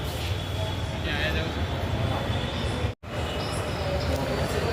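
Steady rumbling hum of a metro train at an Ahmedabad metro station platform, continuous and fairly loud, broken by one brief cutout near the middle.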